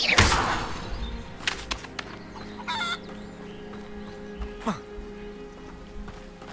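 Chickens cluck repeatedly in the video game Hogwarts Legacy, with a burst of loud clucking at the start and then scattered clucks and a crowing-like call over soft ambient background.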